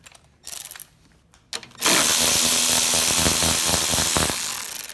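Removing carburetor nuts on a Troy-Bilt Storm 2620 snow thrower: a few sharp metallic clicks, then a loud sustained ratcheting whir from a tool spinning the nuts off, close and dense until the end.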